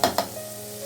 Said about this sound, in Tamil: வெங்காயம் வதங்குது